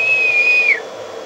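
A single sustained high whistle into a microphone feeding a custom Scorpion car audio amplifier setup, loud and close, holding one steady pitch before sliding down and cutting off.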